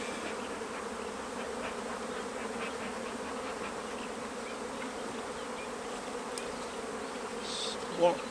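Dense buzzing of many honey bees at an open hive, steady and close, with a faint thump near the end.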